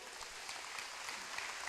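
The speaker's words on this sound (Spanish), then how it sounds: "denle un aplauso" Applause from a church congregation during a Spanish-language sermon: a soft, steady wash of clapping that sounds distant and subdued, with no voices over it.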